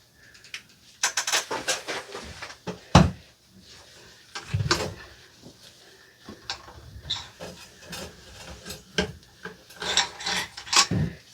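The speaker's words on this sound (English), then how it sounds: "I'm going to run a patch with solvent on it through the barrel." A solvent-soaked patch is pushed back and forth through a hunting rifle barrel on a cleaning rod, making close, uneven rasping and rubbing strokes with scraping clicks in between, and no talking.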